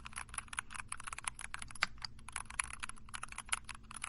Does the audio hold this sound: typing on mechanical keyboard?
yes